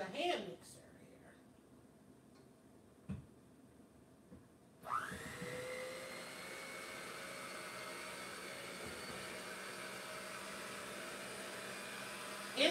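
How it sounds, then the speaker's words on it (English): An electric hand mixer whirs steadily through bread dough in a home kitchen, starting with a sharp rise and then holding a constant, fairly loud mechanical hum after a few quiet knocks. "So we're gonna hit it off with a hand mixer here."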